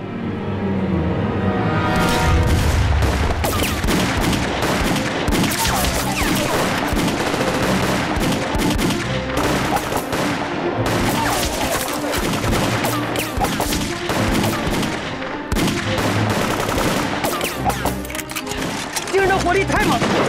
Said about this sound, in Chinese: 火力太猛了，咱们快没子弹了，怎么办？